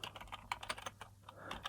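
Quick, uneven keystrokes on a computer keyboard as a web address is typed into a browser, close and clear, with short pauses between bursts of clicks.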